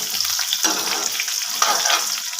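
Mustard seeds and mango fry in a pan for a home-style Assamese dish, a close, steady hissing sizzle with constant crackles and spits throughout.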